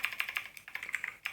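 Someone is typing on a computer keyboard, a quick run of light, close key clicks with an irregular rhythm and a brief pause partway through.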